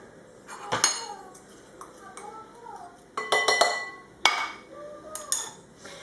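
Chopped parsley and coriander are spooned into a salad bowl, sharp metallic clinks and taps of a spoon against the bowl in separate bursts, with voices talking quietly between them.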